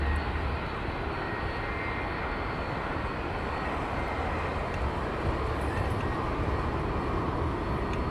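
A Boeing 757 powers up for takeoff at Heathrow Airport, its jet engines producing a loud, steady, broadband roar that fills the whole stretch without letting up, with no talking over it.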